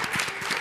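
Audience at a school quiz show applauding, a brief burst of dense crowd clapping at moderate loudness.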